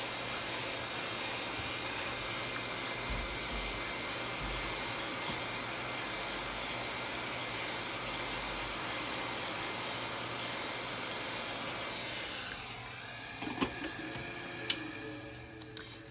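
A heat gun blows hot air onto the lower corner of a Samsung Galaxy S9+ back glass, a quiet steady whooshing hiss for about twelve seconds, then it cuts off, leaving a few faint clicks and taps.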